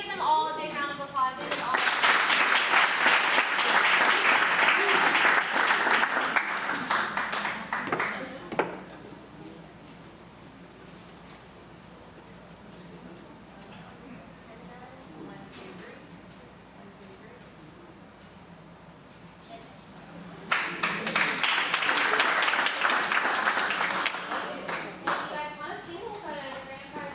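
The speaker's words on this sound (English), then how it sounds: "Can we give them all a big round of applause?" Two bursts of clapping from a policy committee meeting audience, each lasting several seconds, separated by a quieter stretch with faint talk in the room.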